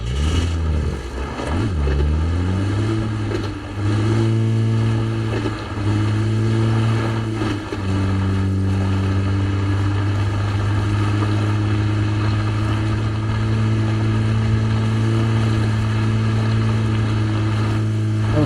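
Car engine in PUBG, a steady droning motor with harmonic bands that shift as the vehicle speeds up and settles, loud and continuous throughout with no talk, during a PUBG Global Series 8 final-stage match.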